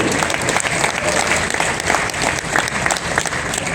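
Loud, dense applause fills the hall at a live music award show, a crowd clapping steadily and closely for the whole stretch, with faint crowd murmur beneath.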